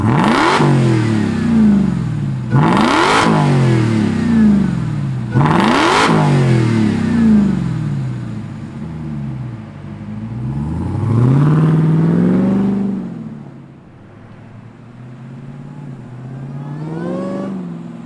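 Jeep Gladiator Rubicon Demon truck engine fires up and revs hard, loud and close. Several sharp blips each rise and fall back, then longer sweeping revs settle to a lower idle, with a final rev near the end.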